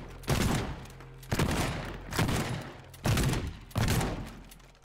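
Shotgun blasts in a video game, five loud, booming shots spaced about a second apart, each followed by a short decaying tail.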